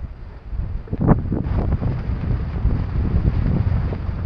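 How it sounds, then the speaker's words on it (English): Strong gusting wind buffets the microphone while cycling on a drizzly route from Vanh Thanh to Lang Co, a loud, continuous low rumble with no talk. "it's really quite windy as well"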